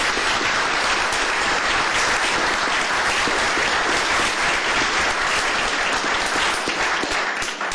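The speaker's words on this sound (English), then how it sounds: "Let's give them a big applause." Sustained, dense audience applause at a county commissioners court session honoring five-year employees, loud and steady throughout with no talking over it.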